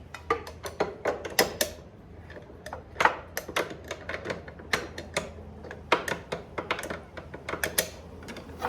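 Wrench turning a nut on the deep arbor threads of a Ryobi table saw during a blade change, heard as rapid uneven metallic ticks and clicks in bursts, close up and with no talking.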